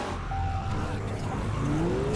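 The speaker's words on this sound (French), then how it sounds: "Allez, roule, vieille merde de véhicule!" Car engine in Garry's Mod DarkRP, a steady revving drone rising in pitch toward the end, with a brief tonal whine layered over the rumble.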